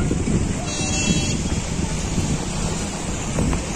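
Steady rushing water of the Sharda river mixed with gusty wind buffeting the microphone, a constant loud outdoor wash throughout with a faint tonal whine near the start.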